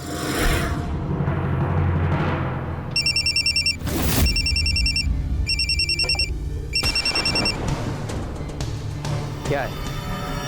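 Telephone ringing for an incoming call, bright repeated electronic ring bursts in an even on-off pattern over several seconds, heard over room sound and people talking in a Hindi crime drama scene.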